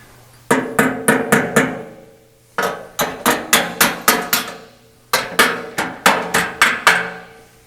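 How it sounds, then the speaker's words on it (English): Sharp metallic hammer-and-dolly blows on a 1933 Ford steel fender, in three quick bursts of five or six strikes each, separated by short pauses, close and loud. "I'm going to straighten this out a little bit with a hammer and dolly"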